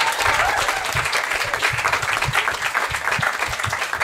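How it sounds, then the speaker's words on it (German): Live stand-up comedy audience applauding teachers, a dense steady wash of clapping from a crowd that runs for about four seconds without speech. "Applaus für diese alle Lehrer und diese ganzen Berufe"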